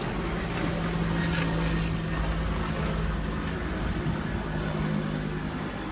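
Helicopter passing overhead, heard as a steady broadband engine and rotor roar with a low droning hum, fairly constant and distant, without talk.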